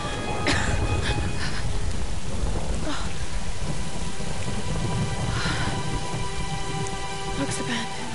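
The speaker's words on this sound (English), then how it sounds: "Take shelter from the storm." A video game storm: steady, dense rain drums on surfaces throughout, with low rumbling thunder rolling underneath and a few sharper cracks standing out.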